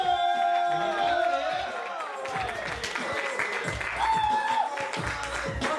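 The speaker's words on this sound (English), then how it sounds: "Clap it up, clap it up." An audience applauds and cheers for a first-time comedian, named Uncle Kyle, taking the stage at a comedy show. Clapping and crowd noise run throughout, mixed with shouts and voices.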